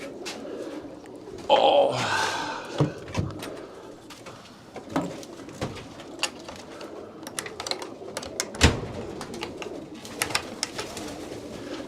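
Loft pigeons coo in low, repeated murmurs at fairly close range, mixed with scattered clicks and fluttering sounds; a man briefly exclaims near the start.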